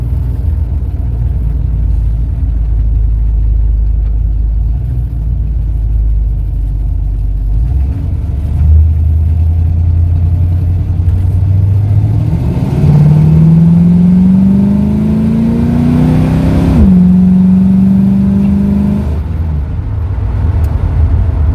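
A 1971 Ford Torino's engine idles with a deep, loud rumble, then revs in rising steps, climbing steadily before dropping back and settling, close and without talk.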